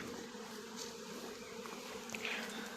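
A low, continuous hum of many honey bees buzzing nearby at an apiary among acacia blossoms in Qazax, Azerbaijan, fairly quiet and steady, with a few individual insects passing closer.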